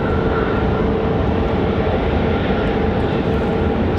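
A United airliner departing Raleigh-Durham International Airport on its way to Washington, D.C., its jet engines a loud, steady roar that fills the whole stretch, with no talk.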